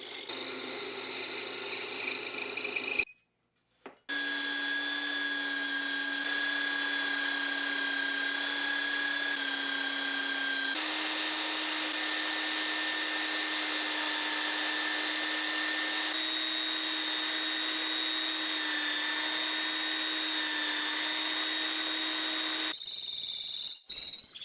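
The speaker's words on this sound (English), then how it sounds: "So now I'm going to drill the hole for the threaded rod." A power drill bores a hole through wood for a threaded rod while making a handle for a homemade deep throat clamp, with a steady high whine running almost continuously, cut briefly near the start and stopping at the end.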